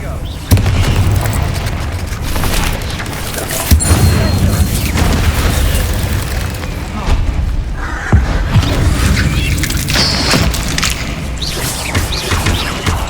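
An Incendio fire spell cast in the game Hogwarts Legacy inside catacombs: sharp booming bursts near the start and again mid-clip, set in a loud continuous bed of game effects and music, with no talking.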